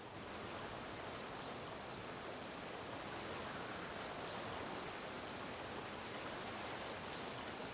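Steady flowing water ambience from the video game Final Fantasy XIV Dawntrail, a continuous broadband rush like a stream or surf, even and unbroken throughout with no music or voices.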